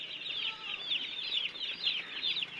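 Chicks on a small poultry farm of about 200 birds, a faint steady chorus of high peeping and cheeping from many birds at once, with no talking.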